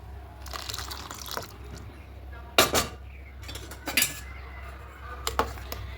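A metal pot clinks and clanks while dal is tipped into a pressure cooker, giving a few sharp knocks spread over several seconds against a quiet kitchen background.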